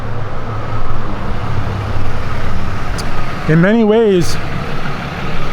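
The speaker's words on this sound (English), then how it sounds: "loud ass truck" A loud truck engine rumbles steadily nearby with heavy road noise, while someone talks over it; a brief wavering tone rises midway.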